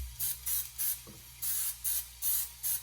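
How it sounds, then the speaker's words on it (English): Non-stick coconut oil cooking spray hisses onto a pan on a stove in seven short, evenly spaced bursts, each about a quarter second long, close and clear. "I will throw some spray on this."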